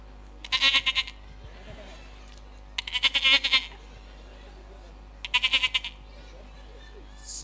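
A man imitates a baby goat's bleat three times during a sermon, each call a quavering, pulsing cry separated by short pauses over low background noise.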